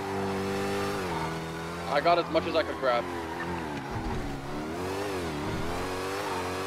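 Car engine revving in GTA NoPixel roleplay, a steady mid-pitched drone with rising and falling revs throughout, loud under a voice speaking briefly in the middle.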